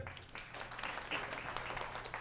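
Scattered, sparse clapping from a few comedy show audience members, faint and uneven individual claps spread over a couple of seconds.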